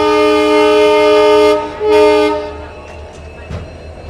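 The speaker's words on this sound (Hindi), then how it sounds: "सामने एक पैसेंजर ट्रेन और खड़ी है जो चलने के लिए रेडी है, WDP 4D, new Guwahati shade" A WDP 4D diesel locomotive from New Guwahati shed, heading a waiting passenger train at a station, sounds a loud, sustained horn, then a second short blast, followed by quieter station ambience.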